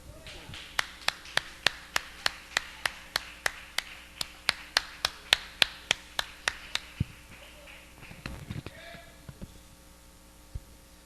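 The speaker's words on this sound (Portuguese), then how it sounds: "Vamos aplaudir o Senhor mais uma vez em nome de Jesus." A church congregation clapping in praise during a worship service: a steady run of sharp, evenly spaced claps that holds for about seven seconds before breaking into scattered rustling and a few stray claps, quiet overall.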